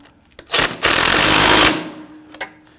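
A power tool snugs down a bolt on the front lower forward suspension arm of a 2005-2010 Chrysler 300 in a single loud, buzzing burst of about a second, with faint clicks before and after.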